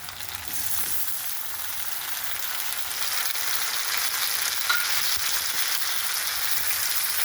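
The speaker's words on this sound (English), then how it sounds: "After that, we can now go ahead and add our 2 tomatoes." Two tomatoes frying in hot oil in a pan, a loud steady crackling sizzle that starts after a brief quiet moment and continues evenly throughout, with no voices.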